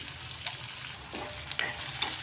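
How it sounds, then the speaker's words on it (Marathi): Chopped onion sizzles in a pan for a village-style dry chicken dish, with steady frying hiss and several scraping stirs of a spatula close by, no voices. "आता आपण कांदा टाकून घेतलेला आता लाल होईपर्यंत त्याला हलवून घे"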